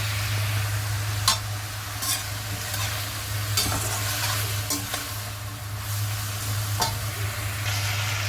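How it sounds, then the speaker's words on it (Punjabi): Taro root (arbi) frying with masala in a home kitchen pan is stirred repeatedly, giving a steady close sizzle under scraping spoon strokes at irregular intervals, with no talk. "ਲਓ ਜੀ ਅਰਬੀ ਆਪਾਂ ਪਾਤੀ ਮਸਾਲਾ ਭੁੱਜ ਗਿਆ ਤੇ ਹੁਣ ਇਹਨੂੰ ਆਪਾਂ ਹਰਲਾ ਦਿੰਨੇ ਸਾਰੇ ਨੂੰ"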